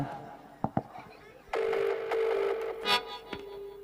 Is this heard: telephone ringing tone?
yes